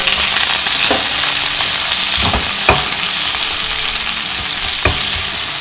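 Salted eggplant frying in oil in a pan, giving a loud, continuous sizzle with a few sharp clicks and spatters, close up and without talking.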